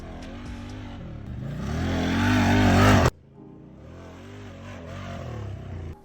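A Traxxas Slash RC truck is driven, its electric motor whining and rising in pitch as it speeds up. The sound cuts out sharply, then a quieter, wavering motor drone continues.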